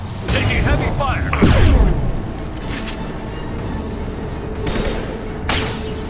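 Heavy gunfire and booming blasts fill a Mass Effect 2 battle, with sustained bursts, a louder surge near the start and sharp reports later, while voices speak over the combat.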